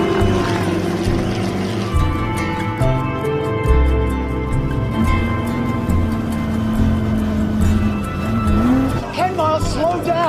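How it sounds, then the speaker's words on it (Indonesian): Race car engine from the Ford v Ferrari film easing off and slowing down, a loud continuous drone with shifting pitch and some tire noise, mixed under film dialogue and a music score. "Komentator, penonton, dan kru serta keluarga pun merasa heran kenapa tiba-tiba Ken memelankan mobilnya."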